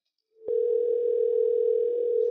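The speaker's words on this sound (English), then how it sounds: "we seem to get an issue where it's just ringing and ringing" A phone line tone on a call-in show sounds as a single steady electronic tone. It holds clean and alone after a faint click at the start.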